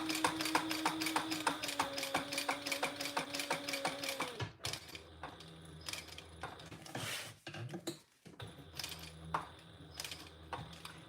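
A sewing machine stitches a fabric wallet in steady rapid bursts, stopping briefly and restarting for a back stitch, close and clear with no talking.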